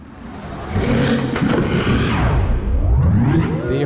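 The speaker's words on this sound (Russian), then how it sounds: "Это портал, звуки портала точно есть." A Minecraft portal in the game's snapshot 22w16a gives off a loud, continuous whooshing roar. The sound swells and then warbles with a wavering, rising and falling tone, heard on its own without talk.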